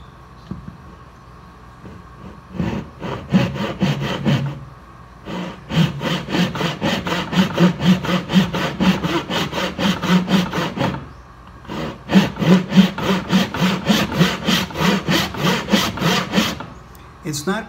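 A luthier's saw cuts through wood in two long runs of fast, rhythmic back-and-forth strokes, close and clear, with a brief pause between the runs and a few tentative starting strokes.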